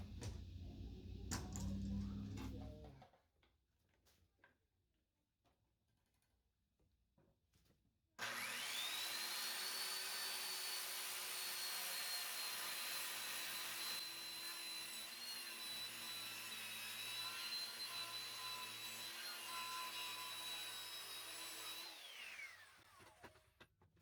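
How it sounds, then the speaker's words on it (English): A circular Skil saw cuts through wood with a long, loud, steady whine, preceded by some handling clatter and a pause before the blade bites and runs for about fifteen seconds, then winds down. "Not too bad for a skill saw."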